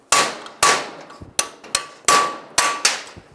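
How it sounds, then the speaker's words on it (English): A hammer strikes a metal punch to drive out a door hinge pin on a 2007-13 Chevy Avalanche: about seven sharp, ringing metallic clangs at an irregular steady pace, close and loud, with no talking. "Now I'll just take a punch and just hammer it out."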